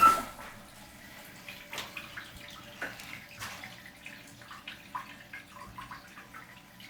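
Water runs into a toilet tank after the supply valve is cracked open, a steady close splashing and trickling with small irregular drips and gurgles throughout, fairly quiet and with no talking.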